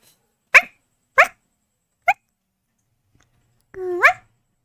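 Someone mimics a dog with three separate sharp barks spaced apart, then a longer whining bark that rises at the end, close and clear.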